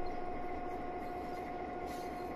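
Train rolling on rails in a train simulator game set around Cheyenne and Sherman Hill, a steady low rumble with a sustained tonal hum throughout and no talking.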